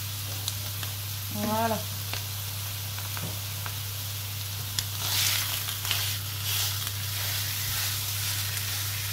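Stuffing fries in a pan with a steady, even sizzle from start to finish, close and moderately quiet, with a brief spoken word early on and a few light clinks of utensils.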